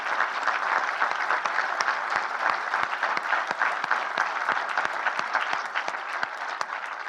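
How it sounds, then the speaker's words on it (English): Audience at a county State of the County address applauding firefighters, a dense, steady round of clapping with sharp individual claps standing out throughout. "give you a big round of applause"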